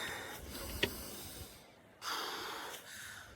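Slow, audible breaths drawn in and let out during a muscle traction and mobility stretch, with a sharp snort-like intake early on, then a long exhale followed by renewed airy breathing up close, no talking.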